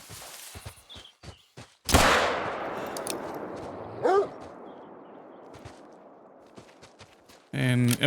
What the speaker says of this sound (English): And it was a good shot.